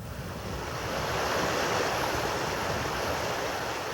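Spray from a waterfall at the foot of the falls on the Milford Track, a broad steady hissing roar, moderately loud and unbroken, with no voices.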